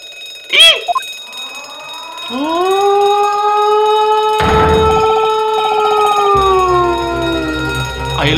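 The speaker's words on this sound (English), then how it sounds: "Alarm!" A rising, sustained two-tone ship alarm siren wails loudly in The Great Ace Attorney, swelling up and holding steady for several seconds with a brief burst of noise partway through.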